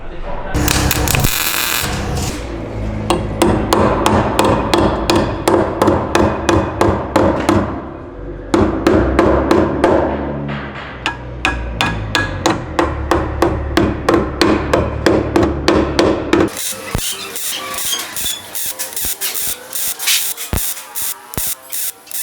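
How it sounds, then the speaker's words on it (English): Repeated sharp hammer blows shaping small metal ears over on the steel frame of an E36 pro drift car, a rapid series of close, loud strikes with brief pauses, then sparser single hits near the end. "then I hammered these little ears over just to give it a little more structure to the frame"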